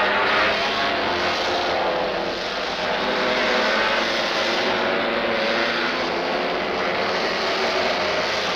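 An aerobatic aircraft engine in flight during a 1990 aerobatics display, a steady, loud roaring drone with slight swells in intensity, heard alone throughout.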